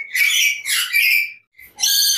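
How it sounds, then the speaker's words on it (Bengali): A salmon-crested (Moluccan) cockatoo screeches loudly and close by in three harsh, raspy bursts, with a short gap before the last one. "দেখেন স্যালমন কাকাতুয়া"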